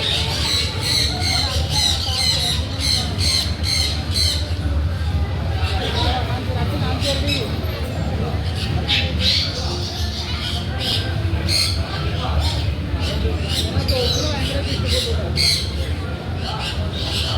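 A parrot gives repeated harsh squawks in bursts over a steady background din of crowd noise and people talking during a family outing.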